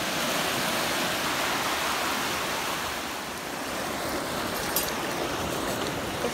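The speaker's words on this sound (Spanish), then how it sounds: "Mira la mar hoy como está aquí. Estamos dentro de agua." Sea waves at a beach surge in a steady, broad wash of surf close by, a continuous roar with slight swells in loudness and no voices.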